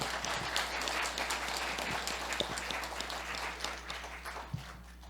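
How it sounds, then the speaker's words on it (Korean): A church congregation applauds the choir and praise team at a Christmas Day worship service, a steady patter of many hands heard from a distance and fairly soft, with a few sharper individual claps. "박수로 격려해 주시겠습니다."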